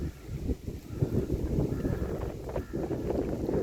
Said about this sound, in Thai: ธรรมชาติที่บึงวันนี้ลมค่ะลมลม